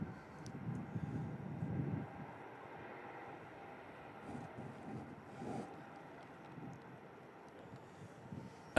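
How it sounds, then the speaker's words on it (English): A Loganair aircraft inbound from Newquay touches down at Manchester Airport, a faint, distant engine rumble swelling briefly early on, then settling into a low, steady drone with soft rises and no talking. "Logan Air about to touch down"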